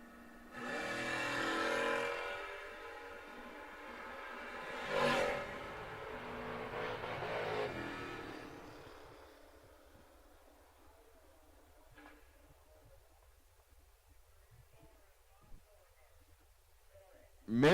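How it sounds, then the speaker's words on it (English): Drag racing cars launching at a championship event, one of them a blue Camaro, with a loud engine roar that swells and fades over several seconds as the cars pull away, then quieter track ambience. "leaving first in the blue Camaro"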